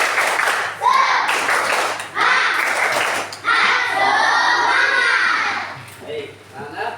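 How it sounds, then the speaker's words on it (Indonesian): Children in a classroom clap a rhythmic spirit-clap routine together, loud bursts of clapping with chanting voices and a teacher's voice nearby. "Tepuk semangat."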